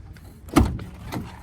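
A short mechanical clunk and slide of the rear doors opening on an Avan Applause 600 motorhome, brief and close, over a low background hum.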